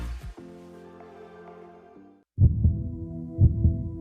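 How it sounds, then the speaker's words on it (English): A healthy human heart beats in slow, deep, muffled thumps, two strong beats about a second apart, following a brief steady hum that cuts off just before them. "It's a sound we take for granted, a healthy heart beating away."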